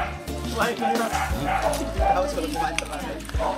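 A puppy yips and barks in short bursts inside a house, with people talking over and around the small dog sounds.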